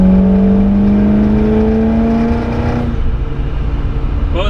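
A 1974 Jensen Interceptor Mark III, an Italian-designed British car with Chrysler running gear, drones loudly with a steady engine hum that sinks slightly in pitch before easing into a softer rumble.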